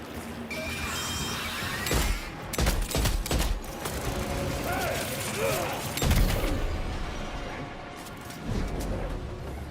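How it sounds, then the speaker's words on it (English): Sniper rifle fire in a fast video game firefight, several sharp loud shots cracking out amid dense overlapping gunfire, impacts and clattering action, with a voice talking over the chaos. "I should not be using a sniper rifle in such close range like that."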